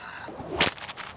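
A single sharp whip crack snaps out on an Australian ranch, loud and close, against a quiet outdoor background.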